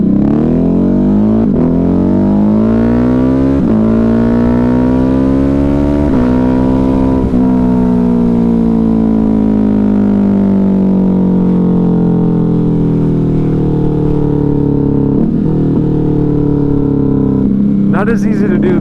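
A Ducati Hypermotard 950 RVE with an SC Project exhaust roars loud and close while riding, its engine note rising and falling through revs and shifts, with a brief crackle near the end.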